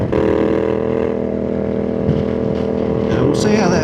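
CFMoto 450MT motorcycle with an aftermarket titanium muffler, its exhaust holding a steady, loud, close idle-to-low-rev drone with strong harmonic tone and a brief rising blip near the end, partly overlapped by wind or talk.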